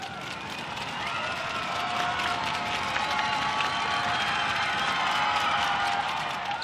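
Sustained roar of a basketball arena crowd jeering to rattle a free-throw shooter in an NBL game, steady and broad with scattered shouts and whistles, loud and continuous throughout.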